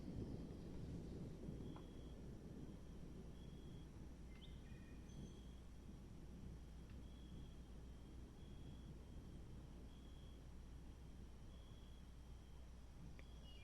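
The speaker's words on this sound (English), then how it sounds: "Sounds like a storm coming in." Distant rumbling thunder from an approaching storm rolls low and faint beneath a steady wash of rain-like noise, with thin bird chirps scattered on top, in the video game Three Fourths Home.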